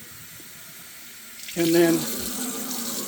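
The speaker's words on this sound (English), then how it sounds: "turn on your cold water, fill your jar full of cold water" Cold water gushes from a tap into a jar of onions, starting abruptly partway through and then running on as a steady splashing stream, with a brief spoken remark over it.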